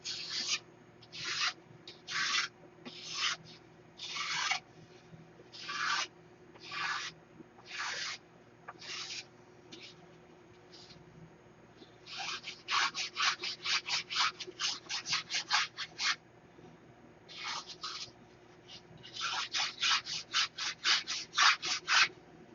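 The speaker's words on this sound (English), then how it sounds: "I got the block plane set" A block plane shaving the leading edge of a wooden wing, heard as repeated rasping strokes in irregular groups, some slow and deliberate, others quick runs of short passes, close and fairly quiet over a low hum.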